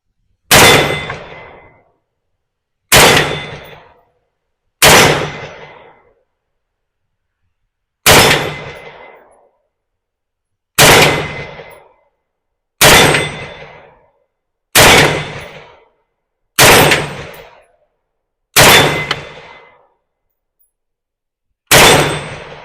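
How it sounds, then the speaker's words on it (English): Ten sharp rifle shots from a Ruger Mini-14 fired at a target, each a loud close crack with a ringing decay, spaced about two seconds apart with silence between and no talk. "let's take a few shots at that target"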